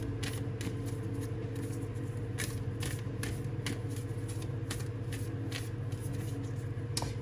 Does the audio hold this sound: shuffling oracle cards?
yes